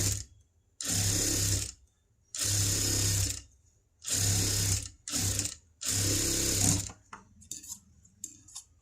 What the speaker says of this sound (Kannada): ಇದನ್ನು ಉಲ್ಟಾ ಮಾಡಿಬಿಟ್ಟು ಇದ್ರ ಎಡ್ಜಲ್ಲಿ ಇದು ಮೇಲೆ ಸ್ಟಿಚ್ ಹಾಕೊಳ್ಳೋಣ